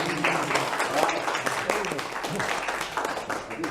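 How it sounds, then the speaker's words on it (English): Audience applause at the opening of a meeting room, a dense, steady wash of clapping held at an even level throughout. "round of applause for that"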